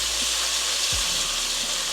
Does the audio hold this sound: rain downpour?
no